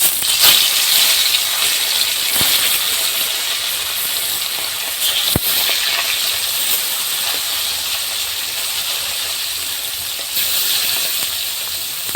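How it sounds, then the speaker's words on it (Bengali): Shol (snakehead) fish frying in hot oil, with a steady loud hiss and sizzle throughout and a few sharp crackles and pops, no voices. "মাছটা এবার আমি ভেজে নেব মাছগুলো ভেজে নেবো"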